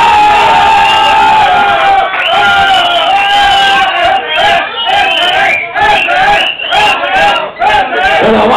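Lively crowd at a Halloween costume contest in Duitama, Boyacá, cheering, whooping and clapping loudly for a Batman costume, with excited shouts and children's voices rising and falling over the noise.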